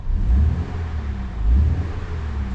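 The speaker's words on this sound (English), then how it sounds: "we'll give the car a little rev, let you hear what it sounds like." A BMW M135i xDrive engine, cold and in Sport Individual mode, revs up twice in quick succession, swelling and easing back, heard close by with a low rumbling idle between.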